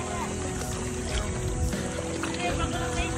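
A boat motor drones steadily during a sea crossing to an island at Hundred Islands, with wind and water rushing around it, a constant loud wash of noise; a voice talks faintly beneath.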